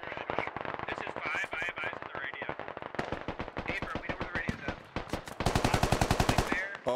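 Automatic weapon fire in the Squad military shooter game, with dense rapid bursts of loud gunshots, some sustained volleys and brief pauses, with voices talking over the shooting.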